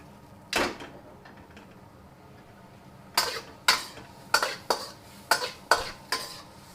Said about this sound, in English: So stir fry isn't really what you're supposed to be doing. It's more flipping.